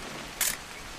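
A single camera shutter click snaps in a video game, one brief crisp burst near the middle against a quiet background.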